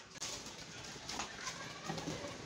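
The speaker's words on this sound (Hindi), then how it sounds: "ये बाहर आना शुरू हो चुके हैं हमारे कबूतर।" Pigeons faintly cooing as they begin leaving their loft at a small home aviary, soft low calls over steady background noise with no talk.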